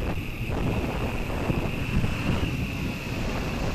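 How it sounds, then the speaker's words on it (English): Gusty wind buffets the microphone during a hexacopter flight, a dense continuous rumble with a steady high motor whine running through it and no voices. "The wind is not settled, but it's not as rough as it was."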